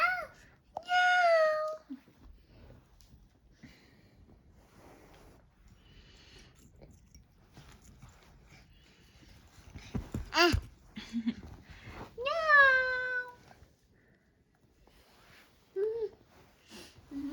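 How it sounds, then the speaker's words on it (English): A cat meows a few times, short rising and falling calls spaced apart, fairly close, with some sniffing and quiet background noise between them. "That's the cat."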